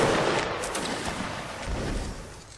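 A musket line fires a volley in the Mount & Blade video game, a loud rolling crash of many shots that fades slowly into a rumbling, distant echo.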